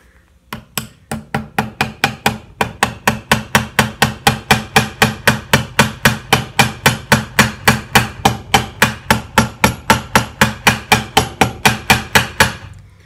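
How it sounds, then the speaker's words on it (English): A brass hammer taps frets into a Vega Tubaphone tenor neck in a fast, steady series of sharp, evenly spaced metallic strikes, close and loud, continuing for several seconds without talk. "Take a brass hammer."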